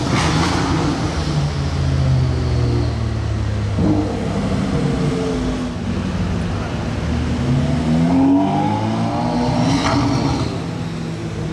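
A Bugatti Chiron hypercar drives past with a deep, loud engine note that swells and falls, revving up toward the end, close by in a city street with no clear talk.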